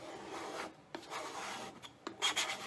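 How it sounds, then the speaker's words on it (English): A paste scraper scrapes old paste off a surface in a few short rasping strokes, close and fairly quiet, separated by brief pauses. "I'm just going to take my paste scraper and start scraping off that old paste."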